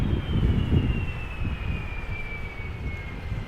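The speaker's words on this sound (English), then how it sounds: "This is Delta Airlines Flight 164, Airbus A330-300 arriving from Minneapolis. About to touch down" A Delta Airlines Airbus A330-300 arriving from Minneapolis and about to touch down at Amsterdam Schiphol, a steady low jet-engine roar with wind buffeting and a faint whine slowly dropping in pitch.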